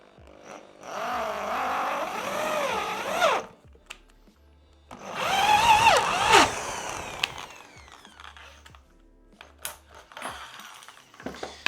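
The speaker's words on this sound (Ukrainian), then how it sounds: "Нарізаємо різьбу." A tap cuts a thread into a cylinder head. A whirring, grinding mechanical sound rises and falls in bursts, with short pauses and scattered metallic clicks between them.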